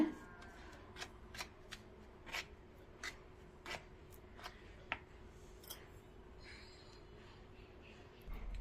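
A turmeric and milk face pack is stirred in a bowl, making quiet, evenly spaced scraping strokes with short pauses between them.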